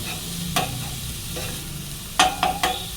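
Minced keema for momos being broken up and stirred in a pan: several distinct spatula scrapes and knocks, loudest near the end, over a faint steady sizzle.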